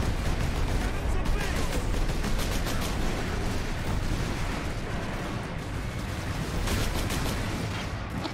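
Incoming artillery fire in a video game battle against orks pounds as a dense, loud barrage of booming blasts and rattling gunfire, continuous and heavy, with faint voices buried underneath.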